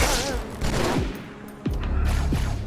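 Gunfire in the video game Halo 2 Anniversary, bursts of rapid shots and explosions crackling over a dense, loud battle din, with players' voices mixed in.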